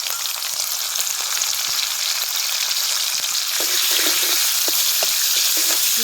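Garlic and green chili frying in oil for village-style poha, a steady close sizzle with scattered stirring clicks that grows slightly louder partway through.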